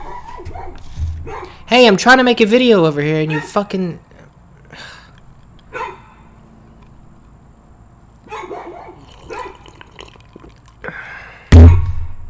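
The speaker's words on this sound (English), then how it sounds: "That dog won't shut the hell up." A dog barks and yips in the background, heard in short bursts between and under loud, angry talk from a nearby man, with a sharp bark near the end.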